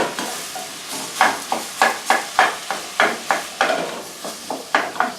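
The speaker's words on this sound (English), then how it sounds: "Chuck it all in, and then what you need to do is break it up with a spoon." Minced beef browning in a pan for chilli con carne, sizzling steadily while a spoon scrapes and breaks it up in a regular rhythm of about two strokes per second, close and clear with no talking.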